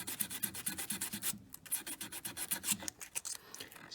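Hand sanding a hammered-texture ring with 220-grit paper: quick, close, rhythmic back-and-forth rasping strokes with a short pause partway through before the scrubbing resumes.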